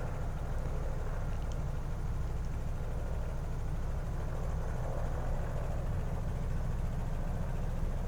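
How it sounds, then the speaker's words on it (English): The engines of a Beech 18 twin-engine aircraft idle at about 800 RPM in a steady, even drone, faint and continuous with no other sounds. "Engines are running. Check the gauges. RPM for both engines, about 800 RPM."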